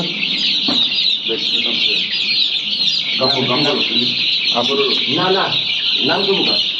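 A crowd of Fayoumi chickens and chicks on a poultry farm during vaccination fills the air with constant high chirping and clucking, while people talk nearby.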